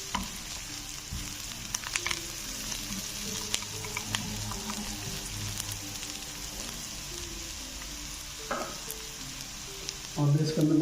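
Tadka tempering for aloo palak, spinach and potatoes, sizzles steadily in hot oil, a close, continuous crackling fry with a louder surge near the end.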